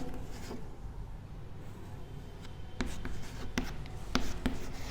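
Numbers written by hand with pen on paper: soft scratching strokes close by, with several short distinct taps and scrapes in the latter half, quiet and without talk.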